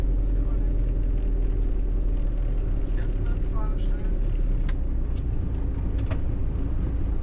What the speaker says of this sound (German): Es kommen jetzt gerade ganz viele Autos und LKWs